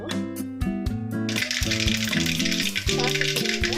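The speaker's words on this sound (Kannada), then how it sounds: "ಸಾಸಿವೆ ಹಾಕ್ತಾ ಇದ್ದೀನಿ. ಸಾಸಿವೆ ಸಿಡಿಬೇಕು." Mustard seeds splutter in hot oil for South Indian lemon rice, a busy sizzle with sharp crackling pops that surges in after a moment, over a bed of tonal background music.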